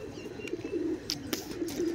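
Pigeons coo in soft, low, rolling murmurs that repeat through the two seconds, close and fairly quiet, with a few faint chirps and light rustles mixed in.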